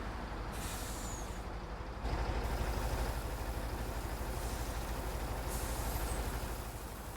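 A truck in Farming Simulator 19 rumbles along with a steady, loud engine drone that swells briefly, a short hiss of air brakes near the start and no voices.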